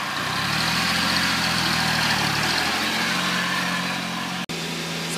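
A vehicle engine runs steadily at low revs in second gear, a continuous near rumble that holds even for several seconds before a brief dropout near the end.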